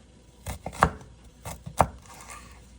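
Slices of ginger are cut into smaller pieces with a knife on a cutting board, making a handful of quick, close, solid chopping knocks in two short clusters.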